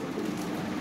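Domestic pigeons of a fancy breed kept for breeding give a soft, continuous low cooing, steady and close, with no talk.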